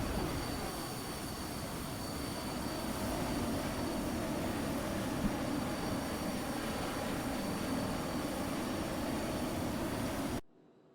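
A jet aircraft engine in a flight simulator game gives a steady, loud, even roar with faint high whine tones, holding constant before cutting off abruptly near the end.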